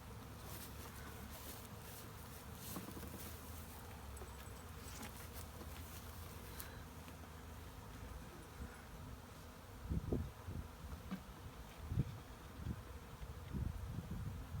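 A bee swarm in a Humboldt County neighborhood gives off a faint, continuous buzzing hum, with a few soft thumps and rustles close by toward the end.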